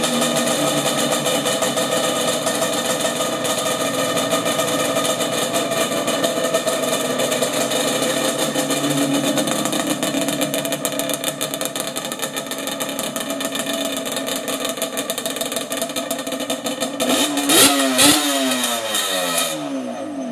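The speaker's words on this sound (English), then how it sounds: "y'all go ahead and get this little cold start, hot start" A Yamaha Banshee 350 ATV engine idles and runs steadily at close range, then is revved hard in several sharp blips near the end, the two-stroke buzz rising and falling.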